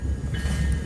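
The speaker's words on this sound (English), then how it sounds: "here comes train 629" A Long Island Rail Road train with a DM30AC locomotive rumbles steadily past up close, a brief loud rolling roar with a faint metallic whine above it.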